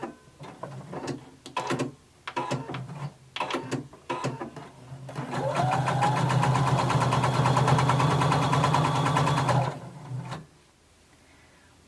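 A sewing machine stitches fabric, first in short stop-start bursts of rapid clatter, then one long continuous run of fast, even whirring before it stops and falls quiet.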